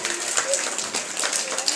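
Group hand clapping during a children's action activity, a quick run of overlapping claps heard up close with voices talking over them.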